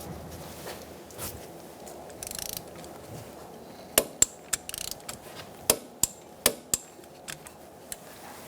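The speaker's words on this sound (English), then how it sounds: "We're gonna snug that up and then torque it to 25 foot-pounds." Wrench ratcheting on a brake hose bolt at the caliper of a 2002-2006 Honda CR-V, a string of about ten sharp, close clicks in an uneven rhythm over a quiet background.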